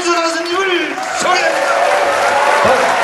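Festival audience at a Korean song event cheering and clapping for a singer, a loud crowd roar with shouted voices and scattered applause, sustained through the moment.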